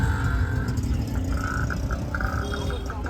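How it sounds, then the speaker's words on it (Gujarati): Steady road traffic with cars rumbling and revving close by, a continuous dense engine drone with a few higher tonal whines running through it. "જોઈ શકો આટલું ટ્રાફિક"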